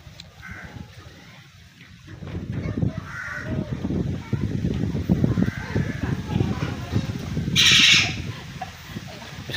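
Crow-like bird cawing, several harsh calls spread through the clip, heard amid outdoor voices and movement with a brief bright squawk near the end.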